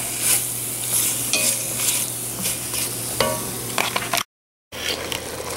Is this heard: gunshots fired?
no